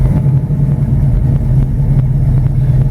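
A 1972 Pontiac LeMans GT drives along with a steady, loud low engine drone from inside the car, holding an even tone without revving.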